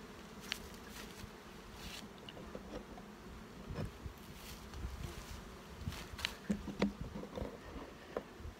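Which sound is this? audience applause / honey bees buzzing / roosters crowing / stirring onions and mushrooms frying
honey bees buzzing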